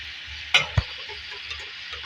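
Potato and okra sabzi frying in a pan is stirred, making a steady soft sizzle with two sharp scraping clicks of the spoon near the start, close and fairly quiet.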